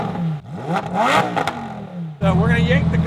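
A Lamborghini Huracan STO engine with its stock exhaust revs up and drops, then settles into a steady throaty idle, close and loud with a rattly exhaust tone.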